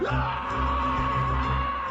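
A classic movie scream sound effect: one loud, sustained yelling cry that holds a steady pitch for about two seconds, close and unaccompanied.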